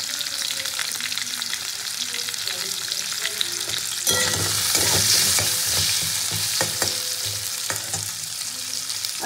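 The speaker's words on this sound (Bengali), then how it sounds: "দিয়ে আমি এবার আলুটাকেও ভেজে নেবো একটু" Potato pieces fry in oil in a wok, seasoned with salt and turmeric, giving a steady sizzle. A louder burst of spattering and stirring begins midway, with scattered scrapes of a spatula.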